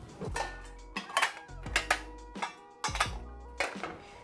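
Enamelled graniteware roaster lid and nesting roasters stacked together, giving a series of about seven ringing metallic clanks at a steady pace, close and fairly loud, each with a short resonant tail.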